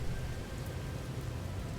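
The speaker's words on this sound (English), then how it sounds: "Okay, another pouring toxic rain." Toxic rain pours steadily in No Man's Sky, a dense, even hiss of falling water with a low rumble beneath, continuous and fairly loud throughout with no voices.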